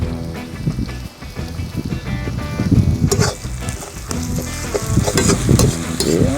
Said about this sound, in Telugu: ఇప్పుడు దీంట్లోకి అల్లం వెల్లుల్లి పేస్ట్ వేసుకుందాం.